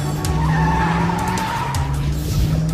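A car driven by a fleeing car thief roars down a two-lane British road, with a loud, sustained engine drone and squealing, skidding tires throughout, and no talk.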